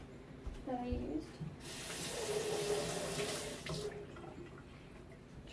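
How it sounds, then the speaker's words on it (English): A tablespoon rinsed under a running kitchen tap while making challah: water gushes steadily for a couple of seconds, splashing against the metal spoon, with light handling clatter before and after. "Just rinsed it off a little bit."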